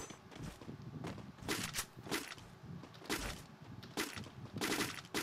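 Rapid bursts of automatic gunfire in the Free Fire video game crack out in several clusters over a few seconds, fairly faint and separated by short pauses.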